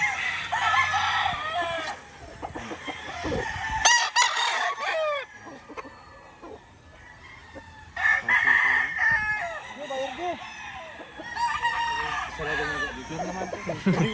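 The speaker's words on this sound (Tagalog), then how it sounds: "sila kuya yung naghahanda ng manok ni Sir B-Boy para sa World Slasher." Several gamefowl roosters crow repeatedly at a game farm, some near and some farther off, their calls overlapping with clucking and faint talk in the background.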